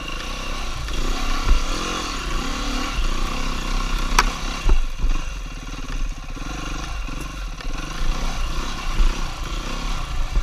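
Dirt bike engine on a single track trail, running with a steady mid-pitched drone and rattly clatter, rising in a few revving surges before settling back; close and continuous throughout.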